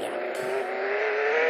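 An engine drones steadily in the Roblox Jailbreak video game while a car drives along, its tone slowly rising as it speeds up, with no talk over it.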